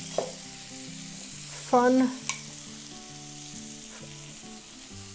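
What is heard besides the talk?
onion frying in butter in a pot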